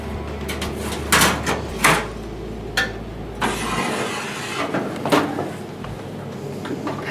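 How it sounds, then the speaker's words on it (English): Filter drawer of an Anets 14GS fryer sliding back into place and the lid set on, several sharp metallic knocks and clunks over a low electrical hum that cuts out partway. "all I have to do now is push the filter drawer back into position, pop my lid on"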